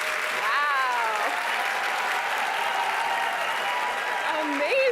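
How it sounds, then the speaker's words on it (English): An audience at a talk on social health trends claps loudly and continuously in a large room, with scattered cheers and a raised voice over the applause. "Clap really loudly if you traveled from outside the US to come here today."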